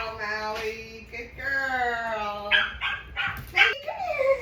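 A bernedoodle puppy whimpers and yips in a series of high, wavering whines, close and fairly quiet, ending with a short rising cry.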